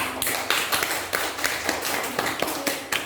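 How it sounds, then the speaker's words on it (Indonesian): Elementary schoolchildren in a third-grade classroom clap together in a rhythmic, patterned cheer for a student group, sharp unison claps landing in a quick regular beat, close and fairly loud. "Tepuk tangan untuk kelompok 3."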